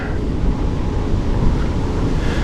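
Strong wind blowing during a 73 km bicycle tour on a gusty day, a loud, steady roar buffeting the microphone throughout with no talk.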